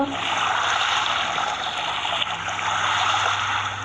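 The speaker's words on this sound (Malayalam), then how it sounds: "നമുക്ക് ഇതിങ്ങനെ വെള്ളം കോരുക" Water being drawn with a bucket, a steady broad rush of pouring and trickling water, close and continuous with no clear breaks.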